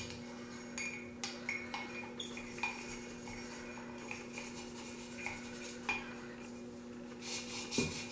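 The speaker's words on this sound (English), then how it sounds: "Scrub, scrub, scrub." Repeated scrubbing of a vintage mug with an old bent toothbrush, small bristle strokes and light ceramic clinks in an irregular rhythm, close and fairly quiet over a steady low hum.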